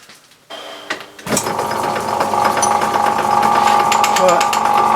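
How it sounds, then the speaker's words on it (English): A lathe centre-drilling a workpiece chucked in its jaws, starting with a few knocks before the machine spins up into a steady, loud whirring hum with a high tonal whine that holds through to the end. "got it chucked up in the lathe. I'm just about to centre drill it"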